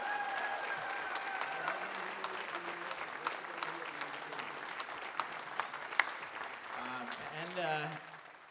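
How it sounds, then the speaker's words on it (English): Loud, sustained clapping from a crowd fills the room, dense and steady, with a musical tone sounding underneath before it fades near the end. "Please give a round of applause for Terrel Cass and Chip Miller."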